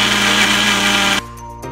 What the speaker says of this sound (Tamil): இப்போ இந்த மாம்பழ பீசஸ் வந்து நம்ம ஃபைனாக அரைச்சிக்கலாம்.